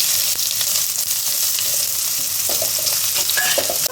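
Onion sizzles in hot ghee with a little kasuri methi while being stirred for paneer butter masala. A steady, bright frying hiss is broken by soft scraping strokes of the spoon, and no one speaks.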